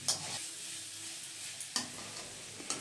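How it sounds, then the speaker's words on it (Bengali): Spices and potatoes frying in oil are stirred in a pan, with a close, crackling sizzle broken by a few sharp scrapes and clinks of the spatula against the metal. "মশলাগুলো আলুর সাথে পুরোপুরি ভাজা ভাজা করে সুন্দরভাবে কষানো হয়ে গিয়েছে।"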